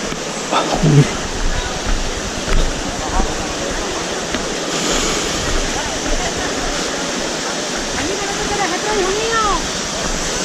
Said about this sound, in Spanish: tenemos que ir a la cascada